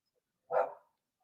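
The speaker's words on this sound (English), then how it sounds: "I'm just going to go and get my dogs in. They're barking outside." A single dog bark sounds from outside, one short mid-pitched bark that is fairly distinct but slightly distant, with silence before and after.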